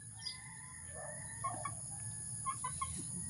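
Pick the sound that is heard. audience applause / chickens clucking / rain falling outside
chickens clucking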